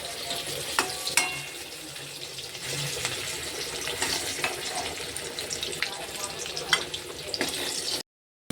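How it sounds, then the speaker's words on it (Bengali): Onion sizzles and spatters in hot oil in a home kitchen while being fried for beresta, a steady crackling hiss with occasional sharper pops and stirring clatter, close and moderately loud. "তেলে আমি খানিকটা পেঁয়াজ একটু ভেজে নেব বেরেস্তা করার জন্য।"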